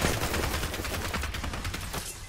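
Rapid Apex Legends gunfire, including a Kraber sniper, rattles in a dense string of sharp cracks over about two seconds, loud and close with no talk.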